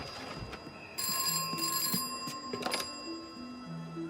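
A telephone rings in a toy train remake scene, its bright electronic bell tones sounding in repeated bursts over a faint background, with no voices.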